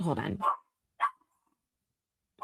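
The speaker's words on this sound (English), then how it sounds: "sorry for the barking in the background" Two short, sharp dog barks ring out in the background right after a brief spoken phrase, followed by quiet before talking resumes.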